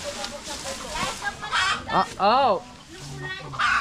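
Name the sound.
chicken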